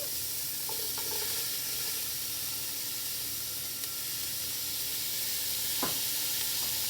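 Celery frying in hot oil gives a loud, constant sizzling hiss up close, with a few utensil scrapes and a brief clatter near the end.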